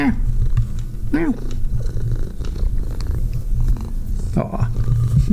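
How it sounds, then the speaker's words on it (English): A pet cat purrs close up in a continuous low rumble, with a few brief higher cat sounds and a person talking over it. "Can you hear her purring?"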